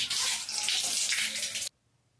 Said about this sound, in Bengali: এখন আমি মুখ হাতটা ধুয়ে নেব।